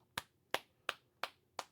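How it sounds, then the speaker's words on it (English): Five sharp hand claps in a slow, evenly spaced rhythm, fairly quiet and close, celebrating a beat contest winner; no talking. "Clap it up for Mad Dog."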